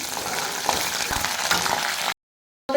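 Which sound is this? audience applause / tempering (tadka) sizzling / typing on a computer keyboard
tempering (tadka) sizzling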